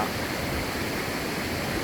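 Water pours steadily over a check dam near a river temple, a dense continuous rushing roar filling the whole stretch, close and loud with no voices.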